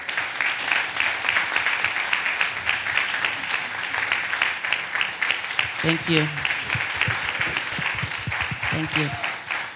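Steady audience applause for poets and panelists at a theatre conversation event, continuous crowd clapping with a voice breaking through briefly twice.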